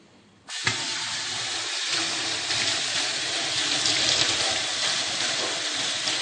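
Water suddenly starts pouring and keeps falling steadily onto a propeller in a small gravity-driven generator experiment, a loud continuous splashing rush.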